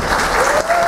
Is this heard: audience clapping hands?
yes